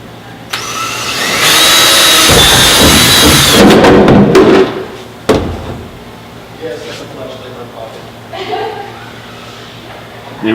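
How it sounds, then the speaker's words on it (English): A power drill whines steadily for a couple of seconds drilling a hole in a paper guard, then stops with a clatter; quieter handling noises and faint talk follow. "drill out this hole."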